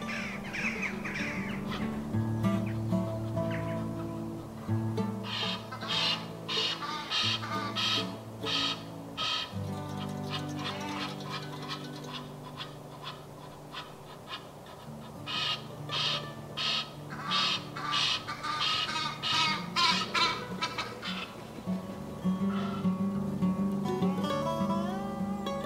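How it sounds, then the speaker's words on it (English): Harsh, honking Egyptian goose calls burst out in repeated runs, loud and near, over a low steady background hum. "Here are those Egyptian geese again, getting rather vocal."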